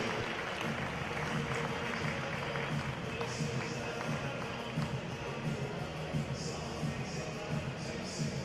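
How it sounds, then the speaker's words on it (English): Crowd in the National Cycling Centre velodrome applauding a new paracycling MC2 world hour record, sustained dense clapping and cheering from a large audience, with a voice speaking over it. "And deserved applause for Colin Lynch"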